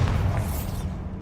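A Bombarda spell blast in Hogwarts Legacy lands as a loud, broad rumbling boom that rolls on for about a second before thinning out, with no voices over it.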